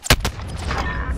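Gunfire in Call of Duty Warzone on the '84 Verdansk map, two loud close shots in rapid succession followed by a ringing, noisy tail.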